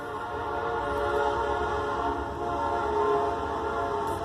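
The Panama Limited passenger train, running from New Orleans to Chicago, rolls past with a steady, loud, sustained rumble and a droning horn-like tone, alone without voices.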